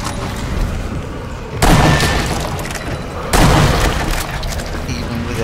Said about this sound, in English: I love the way their heads just explode.